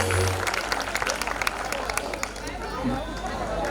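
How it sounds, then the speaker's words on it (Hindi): An audience at a religious festival claps after a stage play, a scattered patter of hands under crowd chatter and a voice speaking over it, fairly faint throughout. "एक बार जोरदार तालियां"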